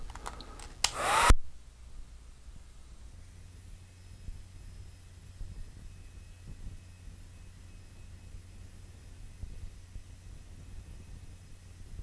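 A hair dryer runs for a long stretch, a steady close whoosh drying a watercolor painting of a snowy Christmas cabin, with no talking.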